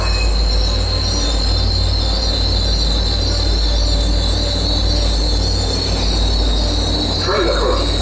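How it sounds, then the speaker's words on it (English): At Readville station a train comes in with loud, continuous metallic wheel squeal and the rumble of rail cars close by, holding steady throughout. "Train approaching. Please remain behind yellow line."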